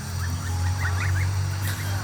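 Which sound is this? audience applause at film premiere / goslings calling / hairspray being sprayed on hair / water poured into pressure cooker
goslings calling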